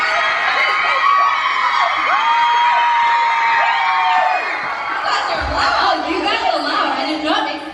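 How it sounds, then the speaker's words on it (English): A large audience at a live Create Your Summer Tour show erupts in sustained cheering, screaming and shrill whistling, loud and continuous, with excited shouts rising toward the end. "There was a huge explosion of applause and whistling."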